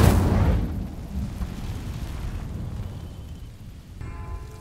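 A fire spell bursts into flame on dry vines in Hogwarts Legacy, a loud whooshing eruption up front that rolls into a sustained crackling roar, thinning out over a few seconds.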